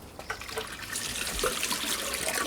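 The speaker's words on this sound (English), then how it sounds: "Just rinse my hands." Hands rinsed under running water outdoors, a short uneven splash and trickle of about two seconds with a few small knocks, close by and moderately loud, with no talking.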